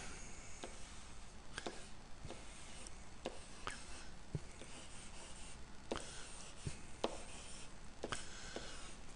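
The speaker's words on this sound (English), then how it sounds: "pick up my pen, I'll pick up the red pen, and I'm going to write how many" Pen strokes on a SmartBoard interactive whiteboard, a series of short taps and scratches in an irregular rhythm, close and quiet with no talking.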